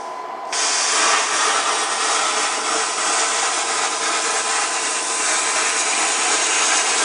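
A Cutmaster 60i plasma cutter slices through half-inch metal plate, a harsh, steady hiss that switches on abruptly and then holds loud and close without pause.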